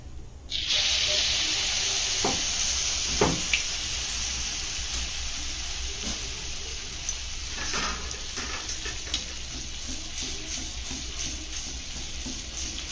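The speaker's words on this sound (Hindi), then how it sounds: "एई भली भाबरे बाकी मालपुआ गुडी को छाननेबा।" Malpua pancakes frying in hot oil, giving a steady bright hiss that starts abruptly and runs throughout with scattered crackles and pops, close and moderately loud.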